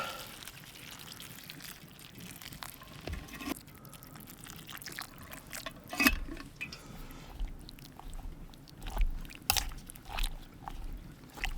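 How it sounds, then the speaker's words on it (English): Water is poured onto gravy granules in a stock pot at a snowy pine forest campsite, giving uneven splashing and trickling in several bursts with brief knocks in between, close and moderately loud. "And pour a whole load of water on that."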